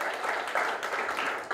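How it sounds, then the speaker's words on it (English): Applause from a landscape architecture scholarship programme audience, a dense, even patter of many hands for a short stretch, steady in level with a slight swell midway. "Another round of applause for him,"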